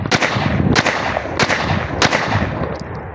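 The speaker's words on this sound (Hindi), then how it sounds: "अब करते हैं दूसरे मैगजीन से इंशाल्लाह टेस्ट फायर" A 9mm Beretta 92FS pistol is test-fired from a magazine, giving five loud, sharp shots spaced roughly every half-second to second, each followed by a short echoing tail outdoors.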